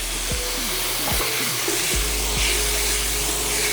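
Five diced garlic cloves hit a hot pan for a Bolognese sauce, giving a loud, steady sizzle with a few clattering stirs and scrapes near the start.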